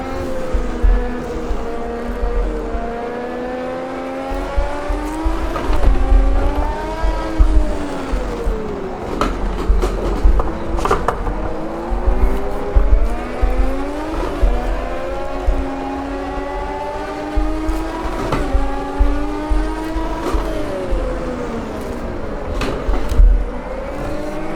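Race car in Automobilista 2, a loud engine rising and falling through gear changes with intermittent tire squeal, continuous and close across the run.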